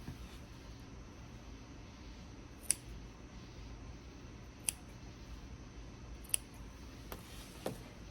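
Scissors cut fabric along the sewn curves of a reversible bag. A handful of sharp, close snips are spaced a second or two apart over a quiet room hum.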